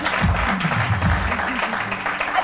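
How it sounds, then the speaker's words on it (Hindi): Studio audience applause on a Pakistani weekend talk show, a steady wash of clapping with a low voice murmuring underneath. "तालियां बजा दें इनकी।"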